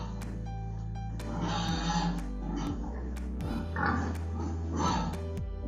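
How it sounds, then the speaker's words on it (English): An Amazon Echo Dot Alexa skill plays a recorded pig: several grunting oinks in quick succession, clear and close, with low snorting tones between them. "Here comes a pig sound."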